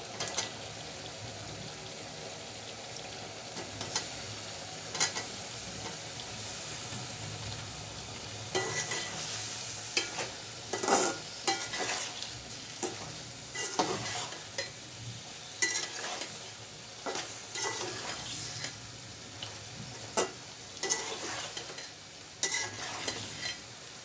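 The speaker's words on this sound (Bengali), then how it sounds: "বেগুন কষানো হয়ে গেছে এবার মূলাটা দিয়ে দিচ্ছি" Radish added to eggplant frying in a pan for a village-style winter vegetable dish with dried bamboo-leaf fish, giving a steady close sizzle broken by repeated scraping stirs and utensil knocks.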